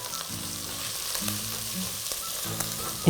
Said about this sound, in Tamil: போட்டு நல்லா ஃப்ரை பண்ணிக்கோங்க.